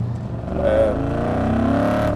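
An Audi RS4 B7 Avant V8 exhaust rumbles close by, a deep steady drone that swells slightly as the engine picks up.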